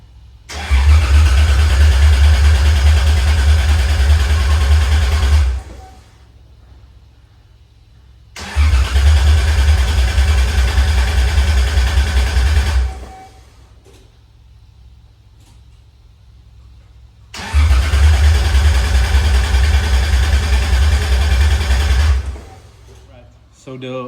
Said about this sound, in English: And now I will start it with the first gear in, obviously because clutch it's not engaged